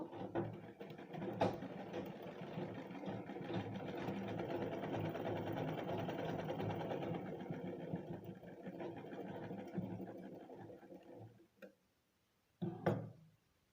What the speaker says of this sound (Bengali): অপর সাইডটা সেলাই করে নেব।